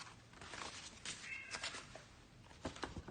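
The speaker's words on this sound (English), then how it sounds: "Maybe you can hear the cat now." A cat meows repeatedly, growing more insistent, its calls rising over a constant background hiss at moderate loudness with no talking.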